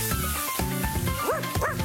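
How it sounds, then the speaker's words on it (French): Cartoon dog Banco lets out a few bright, yipping barks close up, with steady background music running underneath. "Et lui, c'est Banco, son chien."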